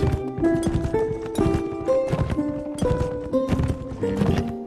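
Horse hooves galloping in the Mount and Blade Fire and Sword video game, a steady rhythmic clip-clop of several strikes per second, close and clear, with tonal music playing alongside.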